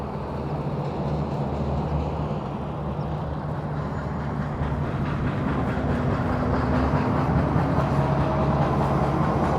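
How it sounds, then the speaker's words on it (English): A Metrolink commuter train rolls past at close range, its low rumble and steady rattle of wheels and cars continuing for the full length. No one speaks. "There's the clunky Metrolink"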